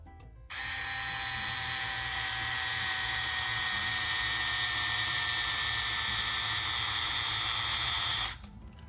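Power driver spinning long 2mm screws into a Tekno SCT410.3 short course RC truck kit, a high-pitched whining buzz starting abruptly, holding steady for about eight seconds, then cutting off, close and loud with no talk.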